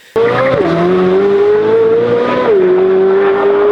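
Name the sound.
sports car exhaust revving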